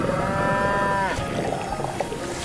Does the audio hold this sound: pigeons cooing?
no